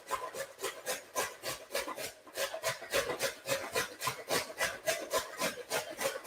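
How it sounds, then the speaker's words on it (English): Carrots grated by hand on a coarse box grater in a home kitchen, a steady run of rhythmic rasping strokes, close and fairly loud, with no talking. "I'm having to hand grate the carrots"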